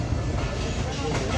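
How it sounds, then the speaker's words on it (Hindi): Tezgam Express train slowly departing Lahore station, a steady rumbling roll of railcars with wheel clatter, heard continuously from close by with a voice talking over it. "ये लाहौर से डिपार्ट होती हुई हमारी ट्रेन"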